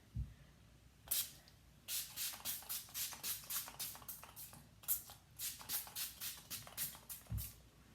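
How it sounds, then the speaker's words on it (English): A small spray bottle of Wet n Wild Cucumber Primer Water mists repeatedly onto a face close by, a quick series of short hissing pumps in bursts, with quiet pauses between. "I'm gonna spray my face with the Wet n Wild Cucumber Primer Water"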